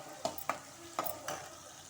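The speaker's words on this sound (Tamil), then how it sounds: "வெங்காயம் நல்லா வதங்கணும்" Onion and tomato sauté in a pan for a masala, with a soft sizzle under a few sharp stirring scrapes of a spoon, close and alone.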